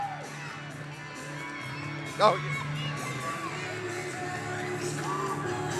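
Wrestling crowd cheering and whooping after George South's submission win with the claw, a steady roar with a sharp yell near the middle, under a commentator's voice.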